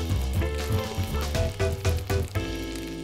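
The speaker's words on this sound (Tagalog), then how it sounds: "At igigisa." Milkfish intestines sauté in a hot pan for a Tondo street snack, giving a steady sizzle with broad hiss and a few louder crackling bursts, close and continuous throughout.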